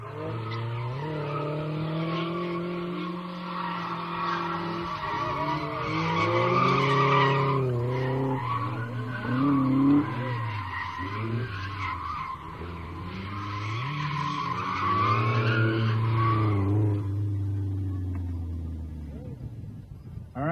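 A race car skids around an autocross track, its engine droning and tires squealing in long, wavering tones that rise and fall with the turns, loud and fairly close.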